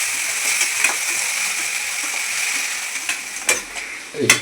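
Veld grape (nalleru) stalks frying in oil in a kadai, with a steady sizzle and occasional splatters, plus a sharper clatter of stirring near the end.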